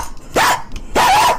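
Two loud, close dog barks ring out in quick succession, each a sharp single woof with a brief pause between them, used as a sound effect.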